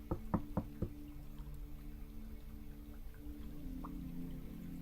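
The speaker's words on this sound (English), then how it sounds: "Knocking." Several quick knocks at a door in a Dungeons & Dragons tabletop game, a short rapid burst of about four raps that then falls away into a low steady hum.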